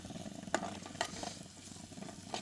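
Onion sizzles in hot oil in a pan on a gas stove outdoors, a soft steady crackle with a few sharp spatters and scrapes, fairly quiet.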